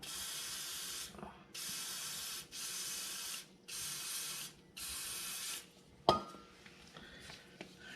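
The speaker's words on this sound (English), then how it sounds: "Spray her on out real quick." Five bursts of aerosol brake cleaner spray hiss in short, even pulses into a Wilwood brake part on a 1988 Camaro Z28 in a shop, followed by a sharp clink and some light handling noises.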